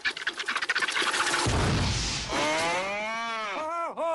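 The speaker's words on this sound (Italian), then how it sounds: "Vado a mungere la mucca adesso." A cow moos loudly and long, a low drawn-out bellow rising and wavering, preceded by some rustling scratchy noise.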